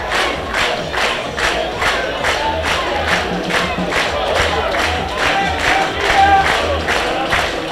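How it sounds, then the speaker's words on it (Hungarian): A large crowd at a youth football match roaring and clapping steadily throughout, a dense wash of cheering and applause without pause. "Zúg a taps, nem véletlen."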